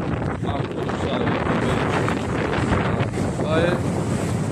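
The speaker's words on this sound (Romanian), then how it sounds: "Vântul bate puțin cam tare, dar e în regulă." Strong wind blows by a rough sea at Mamaia Nord on the Navodari jetty, buffeting the microphone in a constant loud roar with waves underneath.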